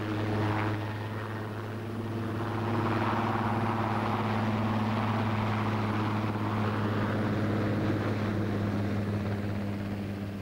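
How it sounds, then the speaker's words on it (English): Helicopter of the Royal Squadron in flight, a steady loud rotor and engine drone with a constant low hum, sustained throughout without voices. "Judy and the rest of the team are flown down in a helicopter of the Royal Squadron."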